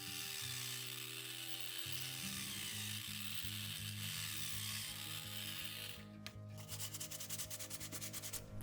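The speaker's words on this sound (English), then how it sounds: "Finally, I did some sanding to blend even further." Sandpaper rubs steadily over hardened putty mortar joints on model stone trestle footers, a continuous dry scratching heard under background music with tonal notes.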